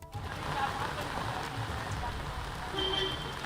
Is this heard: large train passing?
no